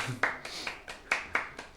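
A small audience at a public university event claps in a sparse, steady rhythm of about eight distinct, close hand claps, each one sharp and separate, with no talking over them.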